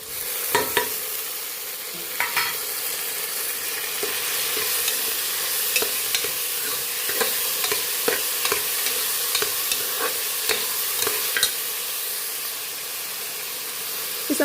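Onions and tomatoes sauté in a pan for beef curry, giving a steady close sizzle broken by frequent sharp scrapes and taps of a stirring spoon, with no talking.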